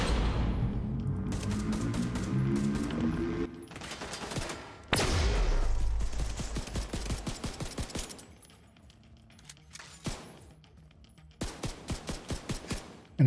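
Bursts of rapid gunfire from the Pestilence weapon in a video game rattle out loud and close, several volleys broken by short pauses, with clicking and mechanical rattles between them.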